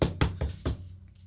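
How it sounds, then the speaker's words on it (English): Four quick knocks on a car's passenger window, one speaker voicing a tight, even rhythm of thuds close up, with no other sound around them. "fucking knocking at my passenger window"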